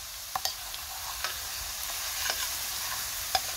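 Crushed garlic sizzles over low heat in a frying pan with a steady, fairly faint hiss, broken by a few scattered crackles and small pops.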